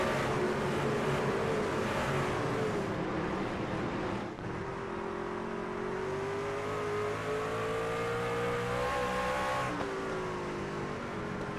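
A pack of race trucks accelerates at Myrtle Beach after a green flag start, engines roaring loud and close. The pitch climbs steadily through several gear shifts over about twelve seconds with no talk.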